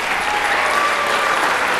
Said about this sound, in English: I'd like to give Chris a round of applause as well